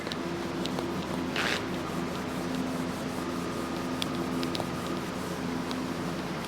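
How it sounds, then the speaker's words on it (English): Rubbing compound is worked by hand over an old faded motorcycle fender on a Yamaha CT-3, a steady close scrubbing and swishing friction sound with a faint hum underneath. "trying a little compound on this old faded fender just to see how it was gonna work"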